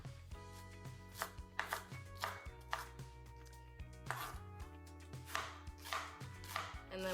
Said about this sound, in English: just small little slices like this does the trick.